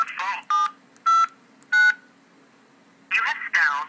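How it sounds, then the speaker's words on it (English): Touch-tone telephone keypad on an automated phone line: three separate short DTMF beeps spaced about half a second apart, with brief voice-like sounds before and after. "Using the keys on your touch-tone phone."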